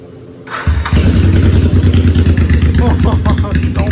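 A motorcycle engine cranks and catches right after its carburetors have been balanced, then settles into a loud, throbbing, slightly uneven idle close by.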